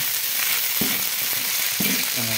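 Oil sizzles loudly and steadily as food fries, with a few soft clinks of a utensil stirring in the pan.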